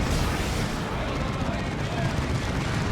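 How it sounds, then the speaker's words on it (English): Dense, continuous barrage of sci-fi plasma gun fire from many units at once in the real-time strategy game Dawn of War 2, a loud unbroken battle roar mixed with a commentator talking over it. "that's a lot of plasma guns shooting at you"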